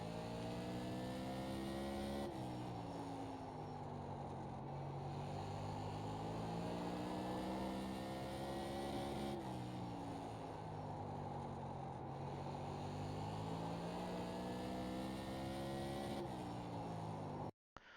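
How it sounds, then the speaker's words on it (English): An iRacing Tour Modified race car engine heard from inside the car during a short lap, a loud continuous roar that rises and falls in pitch three times as it accelerates down straights and eases into turns. "let's go back and let's watch a lap here inside the car"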